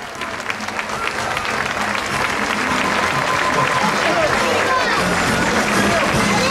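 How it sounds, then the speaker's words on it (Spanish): Crowd applauding at a carnival float parade, loud dense clapping that builds and holds steady, with chatter and voices mixed in. "Fuerte el aplauso."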